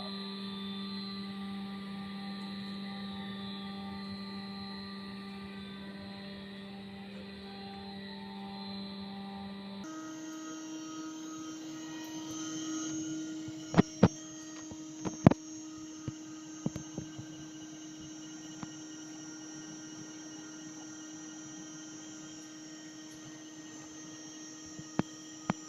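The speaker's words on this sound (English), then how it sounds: "we will start machine and we will give the gradually load to this bar." A compression testing machine loads a metal bar in a materials lab: a steady mechanical hum and drone throughout, with a handful of sharp cracks and clicks in the later part as the specimen begins to give.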